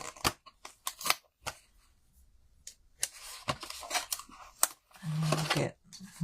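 Scissors snipping through several layers of paper card at once, cutting out small craft pieces, giving a few crisp close snips between quiet pauses and light paper handling, with no talk.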